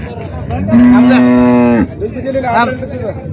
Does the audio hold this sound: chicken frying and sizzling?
no